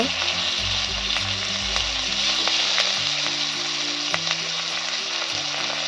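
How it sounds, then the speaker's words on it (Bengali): Chopped onion, green chilli, tomato and carrot sizzle loudly in a pan, a steady close hiss of frying with occasional stirring scrapes, with a low tonal hum underneath throughout. "ভালো করে আমি ভাজা করে নেব"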